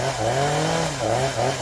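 A chainsaw runs loud and close, cutting down an ash tree, its engine pitch dipping and rising as it bites into wood, bogging down twice under load.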